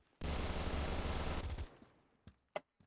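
Rapid automatic fire from an AK-12 in the Phantom Forces shooter game: one loud, dense burst lasting about a second and a half, followed by a few sharp, isolated clicks and shots.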